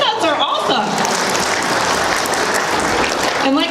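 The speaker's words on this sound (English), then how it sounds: "give yourselves a round of applause" A crowd at a gun-rights group's statewide meeting claps loudly and continuously, with a speaker's voice audible at the start and again as the applause carries on.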